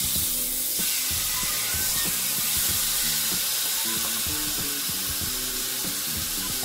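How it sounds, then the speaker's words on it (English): Marinated steak sizzles on a hot pan, a continuous close, hissing fry with small crackles and pops throughout. "Just drop a piece on here so it can sizzle out."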